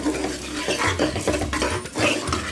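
A spoon stirs broad beans with spinach and lentils in a pot for a broad bean spinach sambar, with close, continuous scraping and clinking against the metal and a light sizzle underneath.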